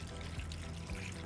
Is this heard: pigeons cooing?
no